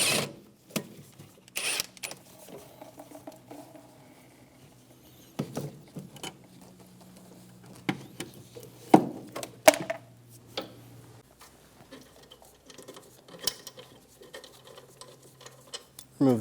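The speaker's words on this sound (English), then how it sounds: "Using a 12mm socket, undo the bolt for the brake line to the caliper." Ratchet clicks and metallic taps from a 12mm socket loosening the brake line bolt on the rear caliper of a 2003-2007 Infiniti G35, scattered in short bursts over a quiet garage hum.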